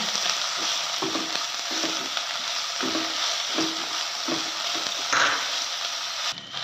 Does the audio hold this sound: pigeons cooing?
no